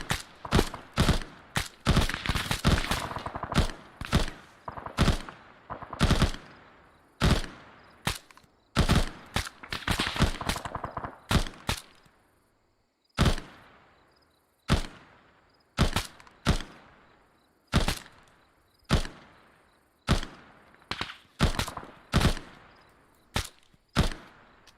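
Gunfire in the military game Arma: a long run of sharp, loud shots, packed into a dense fusillade for the first dozen seconds, then single cracks at steady intervals of about a second.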